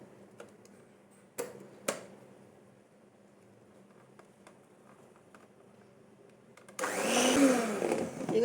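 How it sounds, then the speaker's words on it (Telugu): An electric hand beater starts whipping a cup of cream at slow speed, kicking in loud and whirring after several seconds of quiet clicks and taps, close by with no talk. "ఇప్పుడు ఫస్ట్ స్లోలో బీట్ చేసుకోవాలి దీన్ని."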